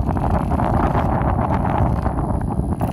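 Steady wind blowing around a 400W vertical lantern-style wind turbine outdoors, heard as constant loud rushing and buffeting, with microphone wind noise and no clear pauses.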